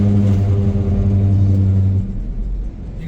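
A car rolls over raised rumble strip markings on the Ganga Expressway, producing a loud, continuous low droning buzz that ends abruptly after two seconds, leaving ordinary tyre and road rumble.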